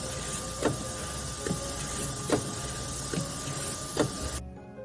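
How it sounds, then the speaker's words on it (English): A machine cutting colour standard swatches makes a steady mechanical hum, broken by several sharp clicks or cuts at roughly regular intervals, before stopping abruptly near the end. "Watch how this machine precisely cuts all of these color standards."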